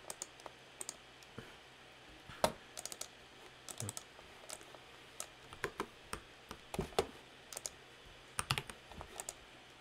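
Computer keyboard keys and mouse buttons clicking while simulation files are copied: scattered crisp taps in small bursts and single clicks, close and fairly quiet, with no talk.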